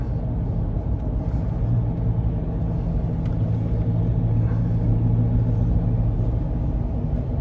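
A car drives up onto a bridge approach without braking, producing a steady, fairly loud road rumble and engine drone heard from inside the cabin throughout.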